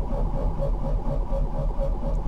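A Fiat 126p Maluch just started after winter, its small engine idling in a low, steady, slightly uneven putter, moderately quiet and close, with no throttle blips.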